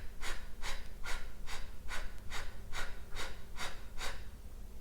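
Rhythmic breathing demonstration during a heart-opening yoga practice, with about nine evenly spaced breathy exhales, first through the mouth then the nose, close and clear over a low steady hum.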